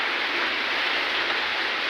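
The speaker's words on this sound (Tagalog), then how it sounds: "Ayan, umuulan po dito ngayon mga kagwang." Steady light rain falls on a rainy morning, an even, continuous hiss of drops on surfaces with no breaks and no voices.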